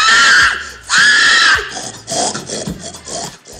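People at a pig-squeal imitation championship voicing shrill, drawn-out squeals, two long loud cries followed by shorter choppy grunting squeals, close and prominent.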